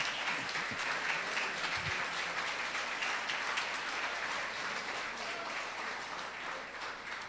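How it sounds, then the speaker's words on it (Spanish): Sustained applause from a church congregation, a steady dense wash of clapping that fills the whole stretch at moderate level without pause. "Dele un aplauso fuerte al Señor Jesucristo"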